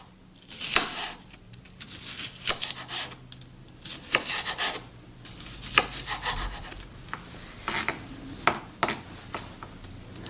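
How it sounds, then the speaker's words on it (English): A knife cuts a cored, seeded bell pepper into small pieces for a Western omelet. Repeated close, crisp cuts and scrapes come in an irregular rhythm, with no talk. "Cut it into small pieces."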